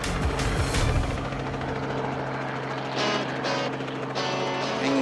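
A helicopter roars loudly and continuously close by, its rotor thumping steadily, with rushing wind bursts rising and falling.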